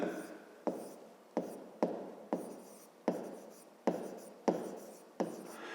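A pen writes out a fifth-grade maths exercise on paper in about eight quick, regular strokes, each a sharp scratch that fades away, close and quiet, with no voice.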